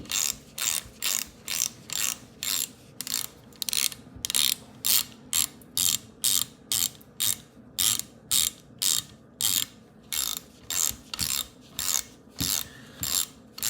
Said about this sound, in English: 11mm socket to get the breech plug out